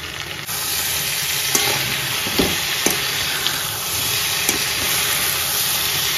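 Food frying in a home kitchen, a steady loud sizzle and hiss of oil with a few sharp clinks of a utensil stirring the pan, continuous and close throughout.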